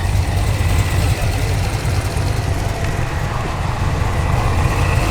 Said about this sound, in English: You definitely hear that intake sucking in air.